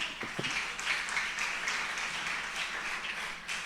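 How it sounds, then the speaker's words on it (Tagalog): A church congregation claps for the Lord during preaching, a moderate, even wash of applause with a brief low thump near the start, fairly quiet and free of talk. "Malakas na palakpak para sa mahal na Panginoon."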